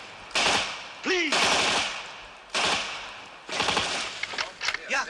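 Machine gun fire in bursts from a war film set beside an elephant pushing logs, several long loud rattling volleys separated by short pauses, with a shout between them.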